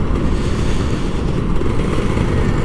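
A Kawasaki Ninja RR 150 two-stroke motorcycle engine is held at a steady, light throttle, a loud, close, rough buzzing drone with no pause and no talk.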